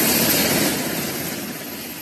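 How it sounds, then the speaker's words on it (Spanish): A helicopter drones loudly and close, a steady engine and rotor roar that eases off slightly over the couple of seconds. "déjeme el sonido del helicóptero, que eso se escucha bonito"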